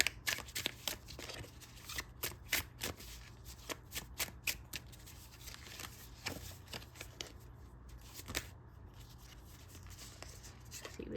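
Tarot cards are handled close up, with a run of quick riffling shuffles and soft slaps and flicks in irregular bursts, quiet overall against a low steady hum.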